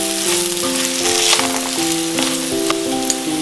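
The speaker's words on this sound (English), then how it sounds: "cook it until potatoes become brown and crispy" Potato pieces sizzle and fry steadily in a hot pan, seasoned with salt and turmeric, a loud continuous crackle with faint scraping of stirring and no talk.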